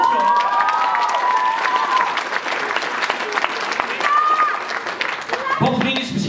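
An audience applauds a guest musician at a live cover performance of a song: sustained clapping and some cheering, with a voice talking over the crowd and a brief louder burst near the end.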